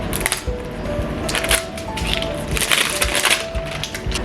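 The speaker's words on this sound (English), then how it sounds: "First, let me open this packaging." Skin care product packaging being torn and opened up close: dense crinkling, crackling and tearing with small sharp snaps and rustles, fairly loud throughout.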